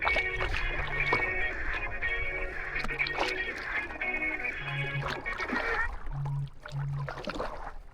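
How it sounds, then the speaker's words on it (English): A small boat is paddled on Lac d'Aiguebelette in France, with rhythmic water strokes and splashes, a radio-like tonal hum running beneath, and no talking. "while I'm paddling."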